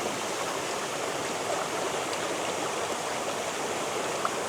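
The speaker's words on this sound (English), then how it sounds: "now we've got that bigger cascade in the background" Water of a large cascade pours steadily in the background at an Arkansas stream, a continuous broadband rushing roar that holds even throughout with no pauses and no voices.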